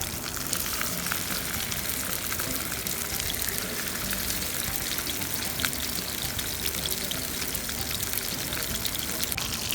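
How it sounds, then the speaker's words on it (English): Hamburger patties frying in a pan, giving a steady, dense sizzle with constant crackle and no break throughout, loud and close with no voices. "let's fry some hamburger patties"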